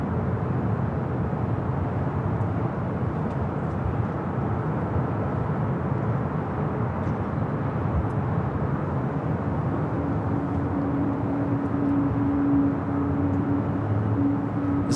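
An airliner taking off from the south side of LAX, heard as a steady, broad roar of jet engines at a distance that holds constant throughout, with no voices.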